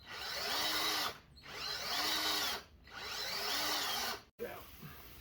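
A power drill bores out stuck exhaust studs in a motorcycle cylinder head in three sustained whining bursts with short pauses between them, close and loud, followed by a brief clatter.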